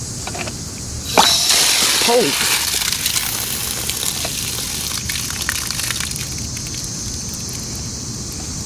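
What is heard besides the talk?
flowing water in a park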